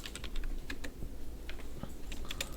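Quick typing on a computer keyboard, entering numbers while drawing shapes in design software: a close run of light clicks over a steady background hum, with no speech.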